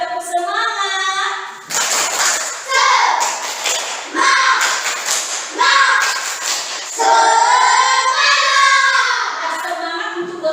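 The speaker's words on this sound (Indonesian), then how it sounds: "Ya, tepuk semangat." A classroom of children in an Indonesian school doing a rhythmic spirit clap, with loud repeated bursts of group clapping alternating with lively chanted young voices, close and energetic throughout.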